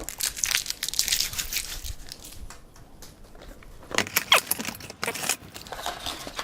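Logitech C920 webcam box packaging, heavily sealed with adhesive, being torn and pried open up close, with crinkling, crunching cardboard rips in two loud bursts separated by a quieter pause.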